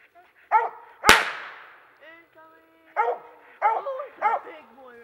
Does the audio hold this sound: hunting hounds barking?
yes